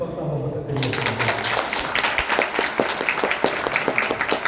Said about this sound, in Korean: 다시 한번 우리 영인 의원님께 큰 박수 한번 부탁드리겠습니다.